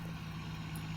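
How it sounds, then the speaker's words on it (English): An Oliver 55 tractor with a small engine, pulling an 8-foot disc for tillage, gives a steady, loud, low engine drone that holds unbroken throughout. "It's got a little engine, but it sounds loud as crap."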